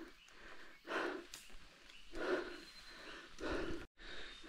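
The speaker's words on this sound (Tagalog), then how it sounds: "Hingal." Heavy, breathy panting after a steep hike up Mount Labi in Nueva Ecija, several loud gasping breaths in an uneven rhythm, close to the microphone.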